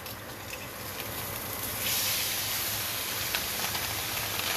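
Steady loud hiss of meat searing in a very hot, smoky pan, a continuous close sizzle that swells slightly partway through, with no voices.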